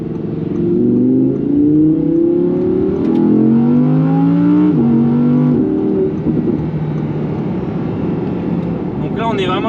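An Audi R8 V10 RWS, the rear-wheel-drive limited edition, revs its engine loudly and continuously up close, pitch climbing and settling in repeated pulls with no talk over it.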